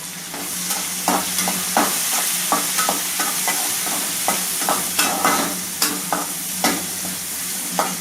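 Tomatoes fry for mutton curry, a loud close sizzle with regular scraping and clacking of a spoon stirring the pan throughout.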